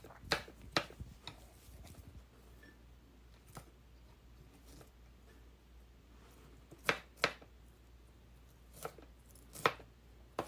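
A knife chops cabbage into small pieces on a cutting board, sharp knocks in scattered clusters with quiet gaps between them, fairly close and alone without any talking.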